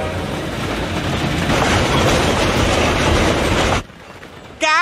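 Cartoon sound effect of a train rushing past, a loud roaring rumble with rattling wheels that cuts off abruptly near the end, followed by a brief high tonal whistle.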